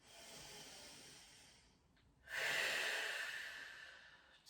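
Slow, deep yoga breathing close to the microphone: a long, soft airy exhale, a short pause, then a strong hissing inhale drawn through the nose.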